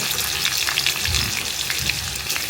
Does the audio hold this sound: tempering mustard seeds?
yes